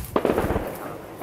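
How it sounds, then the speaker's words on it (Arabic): Barrel bomb shelling strikes Mount Dorin in the Latakia countryside, heard as a brief burst of muffled booms and crackling pops that fades quickly into a dull rumble. "قصف بالبراميل المتفجرة على جبل دورين"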